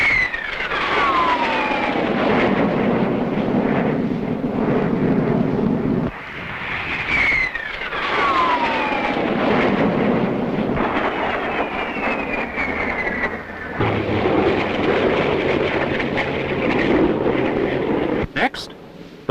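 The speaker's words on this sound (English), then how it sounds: "Here comes the Vampire. Some expert aerobatics by John Derry." A de Havilland Vampire jet fighter flying aerobatics, its loud turbine whine sweeping downward in pitch on repeated passes and swelling and fading with each manoeuvre, while someone narrates over it.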